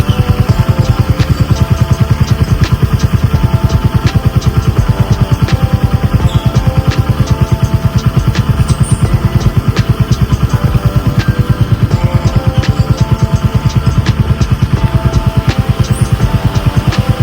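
A Royal Enfield Hunter 350 in Rebel Red runs in place during chain cleaning. Its single-cylinder engine gives a loud, close, even thumping beat that holds steady from start to finish.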